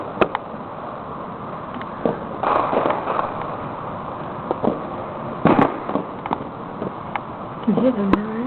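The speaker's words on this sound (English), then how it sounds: "I can hear them now" Victoria Day fireworks explode over a city, a series of irregular pops and thuds of varying strength over a constant background rumble, with some voices in the distance.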